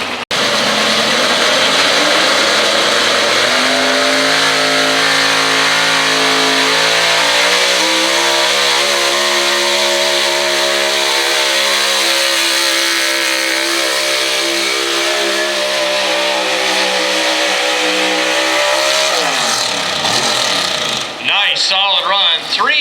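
At a wet-track truck pull in Snyder County, Pennsylvania, a pulling truck's engine roars at full throttle in a long, loud, sustained run, the pitch climbing and shifting before it cuts back near the end, with an announcer talking over it.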